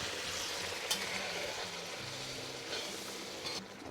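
Lamb browning in a pan of fat and dairy for a Kashmiri lamb and pea curry, a steady close sizzle and frying hiss running throughout with a few brief spatters, no talking.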